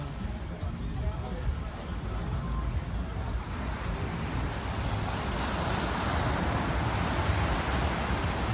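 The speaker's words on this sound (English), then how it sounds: "Then the sound of the waves back." Ocean waves break and wash onto a beach at night at Lumley Beach, a steady broad roar of surf with wind that swells slightly louder toward the end.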